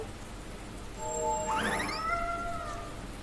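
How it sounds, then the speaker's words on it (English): Cats meow in the video game Tales of Berseria, a faint, short sweep of rising and falling meows over a quiet background hiss. "Now first the cats."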